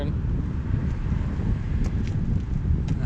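Wind gusts outdoors and buffets the microphone with a continuous low, rumbling roar, steady and close throughout the short stretch.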